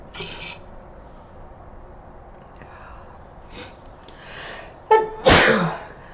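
Faint breathing and small rustles build up to one loud, close sneeze near the end, with a sharp catch just before it.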